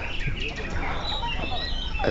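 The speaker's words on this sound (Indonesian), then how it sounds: "Ini burung-burung tadi, bahkan di sana masih banyak burung-burung" Songbirds at a bird-singing contest call in overlapping chirps and whistles, moderately near, over background crowd noise and someone talking.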